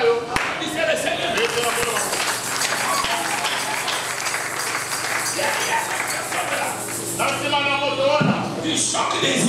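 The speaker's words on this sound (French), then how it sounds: "Applaudissez le Seigneur." A church congregation at a Sunday worship service claps and applauds together, a dense, steady wash of hand claps filling the room, with voices and music mixed in underneath.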